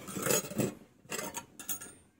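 Bicycle hub ratchet freewheeling in short bursts, a dense metallic clicking in three quick spins separated by brief gaps, close and fairly quiet with no voices.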